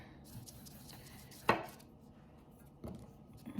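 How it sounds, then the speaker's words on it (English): A knife slicing potatoes about half an inch thick on a cutting board, with two distinct sharp chops spaced a second or so apart over quiet kitchen background. "I'm going to slice them about a ½ inch thick"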